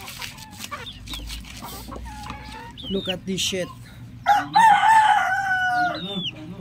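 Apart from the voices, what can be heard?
chicken clucking and crowing on a small farm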